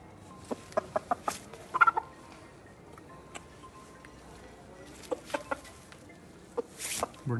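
Aseel rooster clucking in short, sharp bursts, with a cluster of clucks early on and a few more scattered later, close and moderately loud.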